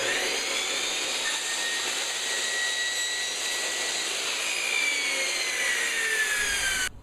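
A saw blade cuts through kitchen trim with a steady, loud, high whirring rasp that stays constant for several seconds before cutting off abruptly at the end.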